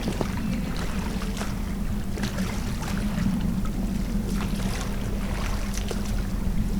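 Oars dip and splash in water at an uneven rhythm while a boat creaks and wind hisses in the background; no voices.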